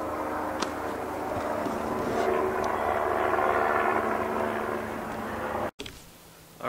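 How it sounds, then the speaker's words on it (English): A propeller airplane passes overhead in the open woods, a steady broad engine drone that swells slightly toward the middle and then cuts out abruptly near the end. "Oh, there's an airplane coming."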